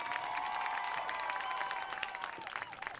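Crowd applauding a senior cheerleader at a high school football game, distant and faint clapping and cheering, with a sustained tonal sound running through the first half before fading.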